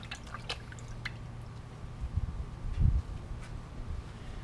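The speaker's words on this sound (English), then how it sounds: "makes it real easy to kind of rinse my hands off" Soft watery splashing and dripping as hands move in a bowl of water, quiet and close, with a slightly louder slosh near the end.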